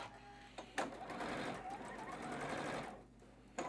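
A sewing machine stitches a quilt column seam in a steady, continuous mechanical whir that runs for a few seconds, bracketed by brief clicks, with no talk over it.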